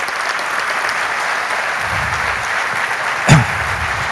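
Steady audience applause after a talk on financing production, a continuous wash of clapping with a brief louder thump and rustle near the end.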